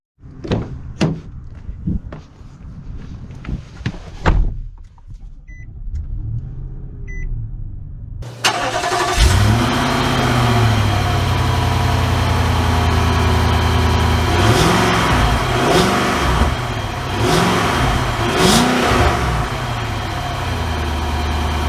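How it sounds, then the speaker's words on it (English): 2022 Nissan Armada Midnight Edition: door thumps and handling noises, then the engine cranks and catches into a loud, steady idle that rises and falls with revs as it pulls away. "Let's take it out and see how it drives."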